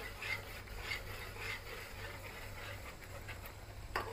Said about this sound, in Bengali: এটা কিন্তু অনবরত নাড়তে থাকতে হবে।